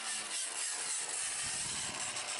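A Craftsman string trimmer fitted with a TrimmerPlus edger attachment runs close by while edging lawn along a sidewalk, a steady buzzing whine with gritty scraping as the blade cuts through grass and soil.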